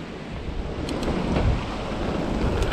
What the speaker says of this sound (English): That wind's hooking up.